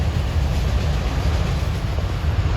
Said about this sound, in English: CSX Manifest Freight from Wallbridge Yard, Toledo to Buffalo